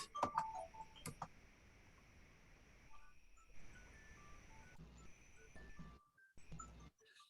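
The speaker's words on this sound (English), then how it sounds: "Let me shut that alarm off." A phone alarm rings through low background noise, repeating electronic beeps and short tonal bursts with ticking clicks, fairly quiet and close.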